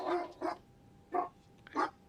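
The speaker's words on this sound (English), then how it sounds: "we just got our wake-up call from the dog" A dog barks four times indoors, two quick barks then two more spaced out, fairly close and distinct with no talking.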